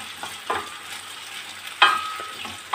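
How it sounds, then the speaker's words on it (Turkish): Potatoes and vegetables sautéing in a pan for bulgur pilaf, a low sizzle broken by sharp scrapes and clatters of a utensil stirring at about half a second and near two seconds. "Böyle bunları ben bir dakika daha kavurayım"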